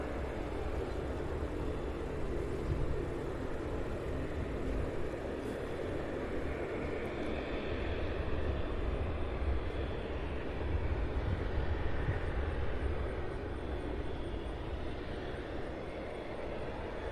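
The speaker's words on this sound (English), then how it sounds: "This United flight here heading to the terminal there." A United airliner taxis toward the terminal at Cincinnati's CVG airport, a steady broadband engine rumble holding at a constant moderate level throughout, with no voices.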